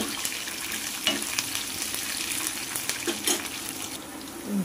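Sliced garlic and curry leaves frying in oil for gongura pulihora, a steady crackling sizzle punctuated by several spatula scrapes and light clinks against the pan.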